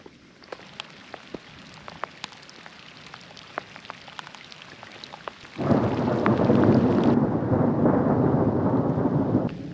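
Thunder rumbles during a thunderstorm, with scattered raindrops ticking at first and then a sudden loud burst of heavy rain that roars steadily for several seconds, close and with no voices.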